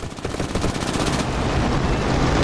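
Machine guns on a P-26A fighter plane in War Thunder rattle in a rapid, dense burst, loud and continuous for a couple of seconds.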